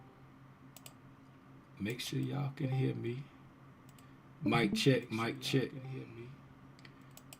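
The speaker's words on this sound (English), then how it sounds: "my computer, it be sounding that loud when I be clicking on stuff" Faint computer mouse clicks sound sporadically, single sharp ticks spaced seconds apart, while someone talks into a microphone between and over them.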